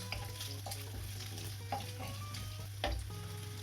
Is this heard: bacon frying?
yes